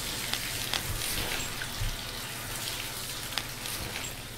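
Water pours down steadily like a cold shower in The Cat Lady video game, a continuous hissing, splattering wash with occasional heavier drops, close and even throughout.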